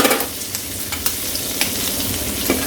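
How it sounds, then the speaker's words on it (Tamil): Green chillies fry in melted butter in a pan with a dense, steady sizzle and crackle, along with close, sharp clicks of stirring. "நல்லா பட்டர் ஒழுகணும் உடனே இந்த பச்சை மிளகா கொஞ்சம் போட்டு"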